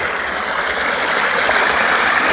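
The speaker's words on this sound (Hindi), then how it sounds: "खूबसूरत आवाज़ इस पानी की" Water pours steadily over a dam in Gujar Khan, Punjab, Pakistan, a continuous broadband rush close by with no break or talk across the whole stretch.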